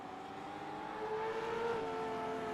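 Camaro and Mustang V8 race cars at Bathurst in a Pitstop Cup sim race, engines droning at a distance in a steady whine that swells slightly as revs climb, with no talking.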